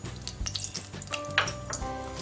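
Mustard seeds and a bay leaf sizzle in hot oil, a short close frying hiss with a few sharp crackles and pops, no voices.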